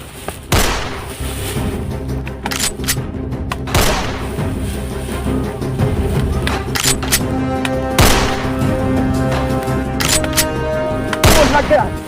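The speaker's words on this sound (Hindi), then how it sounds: "अरे गोली चला रहा।" Several sharp gunshots crack out at irregular intervals, loud and near, with a steady background rumble and some voices in between.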